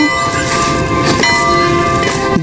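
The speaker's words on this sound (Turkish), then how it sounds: "Bu okulun zili." A school bell rings in a village scene of the Heidi cartoon, a loud sustained metallic ringing with steady tonal bands that fills the whole stretch without a break.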